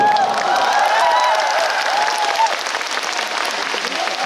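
At a concert in Incheon, a large audience claps loudly, with scattered cheers and whoops rising over the applause early on. The clapping then continues steadily and eases a little toward the end.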